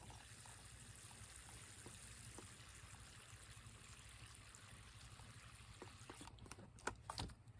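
Water poured onto a newly planted tomato seedling, a steady soft trickling and splashing that runs through the whole stretch at a fairly quiet level, with a few louder bursts near the end.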